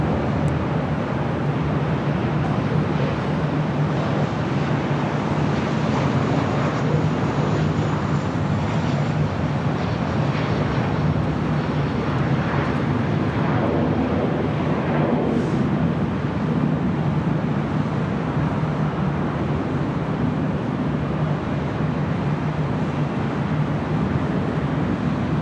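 Southwest Airlines Boeing 737-700 arriving from Sacramento, landing at LAX on the north side; a steady, broad jet roar sits at a constant level throughout, with a faint rising whine partway through and no talk.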